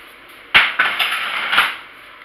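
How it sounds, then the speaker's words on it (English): Homemade granola being tipped from a big pan into a smaller pan, a crunchy rattling pour starting abruptly, carrying on for about a second with a couple of scraping knocks, then fading. "I went ahead and added a little bit from the big pan into the smaller pan so that they're about the same thickness in both pans"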